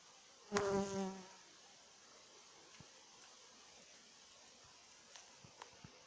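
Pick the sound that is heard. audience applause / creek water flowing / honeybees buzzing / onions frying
honeybees buzzing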